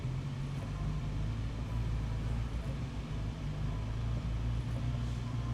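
A broken-down Nissan Micra K10 engine with the throttle held steady, producing a constant low droning hum with a steady tone, moderately loud and unbroken.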